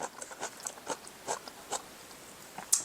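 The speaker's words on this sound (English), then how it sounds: "The cabbage is still crunchy." Soft crunchy chewing close up on cabbage salad with apples, a series of quiet crisp bites at an irregular pace with brief pauses between.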